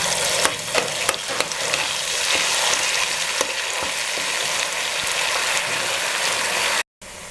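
Ginger sizzles and fries steadily in hot oil for a Hyderabadi chicken pickle, a loud continuous crackle with a few sharper pops and stirring clatters, heard alone without talk.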